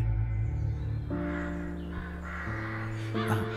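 A crow caws repeatedly outdoors, the harsh calls coming in a series of distinct bursts, fairly close and clear against a quiet background.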